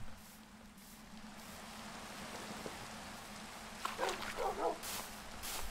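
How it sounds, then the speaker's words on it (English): Little dogs in the Minecraft Twilight Forest bark in a few short, clustered yips near the end, over a steady rain-like background hiss. "Those little dogs are scaring me."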